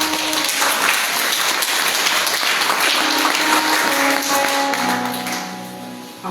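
A church congregation at a Sunday service applauds in a dense, sustained burst of clapping that stays steady, then tapers off near the end, with a faint sustained tone underneath.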